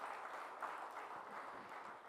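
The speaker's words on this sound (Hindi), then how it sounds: "उनका जोरदार तालियों से एक बार स्वागत करना चाहता हूँ।" Audience applause at a health conclave in Raipur welcoming a doctor, a soft, steady patter of many hands clapping, fairly distant and continuous throughout.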